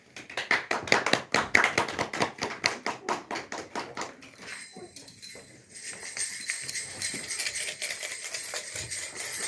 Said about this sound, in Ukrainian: Відкривайте ваші серця і зустрічайте оплесками наших талановитих дітей.